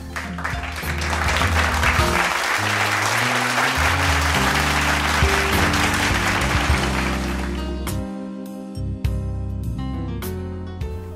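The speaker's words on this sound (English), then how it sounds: "let's give a round of applause to our deacon, deaconess, and trustee ministries." A church congregation applauds its deacon, deaconess and trustee ministries. Broad, sustained clapping plays over steady held musical tones, then thins out as the music carries on alone.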